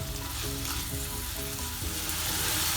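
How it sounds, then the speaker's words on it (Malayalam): Carrots and onions sauté loudly in a hot pan for masala oats, a dense, continuous sizzle and crackle of frying oil that stays steady and close throughout, with no talk. "ക്യാരറ്റും സവാളയൊക്കെ നന്നായി വഴണ്ടി വരട്ടെ"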